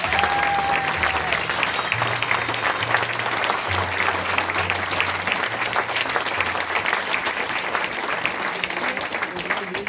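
A large theatre audience claps steadily and warmly, a dense continuous wash of applause with a voice briefly heard over it.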